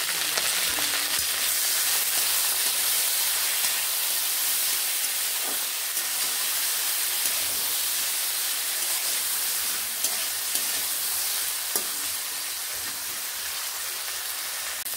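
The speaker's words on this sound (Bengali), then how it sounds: "বিনসগুলোকে আমি একটু ডিপ করে ফ্রাই করলাম" Green beans deep frying in hot oil with a little salt and turmeric, a steady loud sizzle and hiss that carries on unbroken, close by, with no talking.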